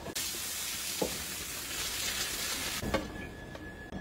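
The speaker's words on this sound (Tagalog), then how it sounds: "gisahon na nato kadali ang bombay ug ang atsal" Onion and bell pepper sizzle steadily in a hot pan for sweet and sour chicken, a close, continuous frying hiss broken by a few soft clicks of stirring.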